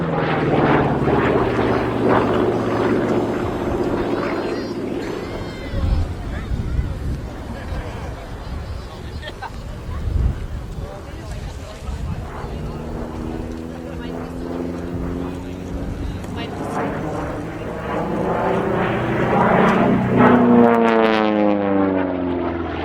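Wartime P-47 Thunderbolt fighter with its 2,300-horsepower Pratt & Whitney Double Wasp radial engine wound up in a dive at an airshow, a loud roaring propeller drone that swells, fades and rises again, with a commentator speaking over it.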